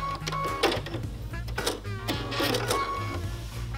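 Sewing machine running a zipper cushion seam, steady mechanical whirring with short pauses and restarts where the stitching reverses, close and moderately loud.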